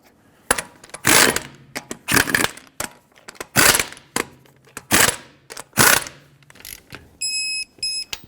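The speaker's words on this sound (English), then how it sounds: "Start on all 5 of your lug nuts, bottom them out, and in a cross pattern, torque them to 100 foot-pounds." Lug nuts being run down and torqued on a Dodge Grand Caravan wheel, heard as about six loud bursts of ratcheting, clicking wrench noise separated by brief pauses, ending in a short series of electronic beeps.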